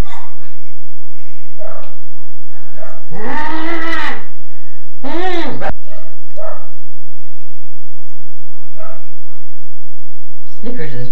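A pet dog barks loudly and close by, two or three strong barks with rising-and-falling tone, in a family home among quieter background voices.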